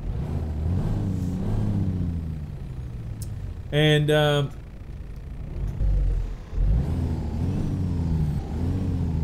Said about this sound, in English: The engine sounds are a lot clearer this week than what they were last week.